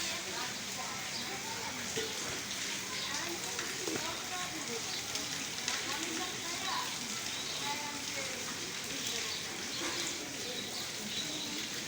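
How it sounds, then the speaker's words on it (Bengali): Rain falls as a dense, constant hiss that never lets up, with a person talking quietly underneath. "বৃষ্টি হচ্ছে অনেকের ভালো লাগে"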